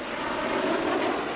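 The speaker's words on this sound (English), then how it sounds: "Look to your right for 5 aircraft side by side as they perform a trademark snowbird maneuver" Snowbirds jets at the 2018 Cherry Point airshow, five aircraft flying side by side in formation, produce a steady, broad, loud roar that holds even throughout.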